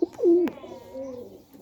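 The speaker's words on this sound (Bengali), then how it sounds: "আর একটা কবুতর ধরেছি, কবুতরটা দেখাই আপনাদের" A caught pigeon gives a single soft, close coo, a short rising-and-falling call heard clearly on its own.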